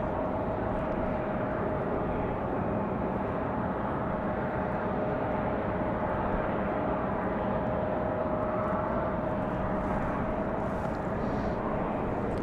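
A Delta Connection CRJ regional jet departs at Raleigh-Durham International Airport, a steady broadband engine roar that holds at moderate distance throughout with no voices.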